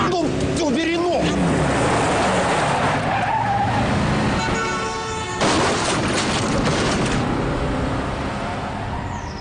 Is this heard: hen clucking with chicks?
no